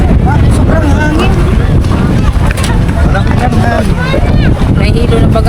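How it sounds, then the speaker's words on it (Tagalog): Strong wind roars steadily across an outdoor spot, buffeting the microphone with constant low rumble while people talk loudly over it throughout. "Sobrang hangin."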